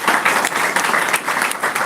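Audience applause at a spiritual talk session, dense steady clapping from a crowd, fairly loud and close, continuing evenly throughout without speech.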